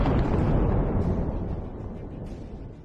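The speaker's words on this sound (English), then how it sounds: "The Russian tank has been destroyed." A Russian tank blows up in war footage from the Russia-Ukraine conflict. The blast is a loud, dense roar that rumbles heavily and slowly fades over a few seconds.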